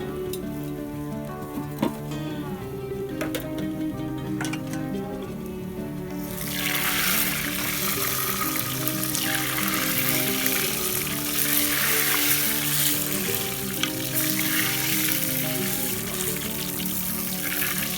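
Hot tempering of onion and coconut hits sambar in a village kitchen, bursting into a loud, bright sizzle midway through that keeps crackling and hissing steadily after a calmer stretch of low bubbling, with no one speaking.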